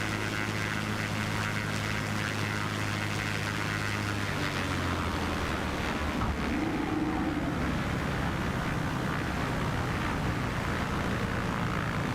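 Ryan Navion B Super propeller aircraft landing in Microsoft Flight Simulator 2024 at Lake Kariba, a constant loud engine and propeller drone whose pitch drops and shifts midway, steady throughout with no talking.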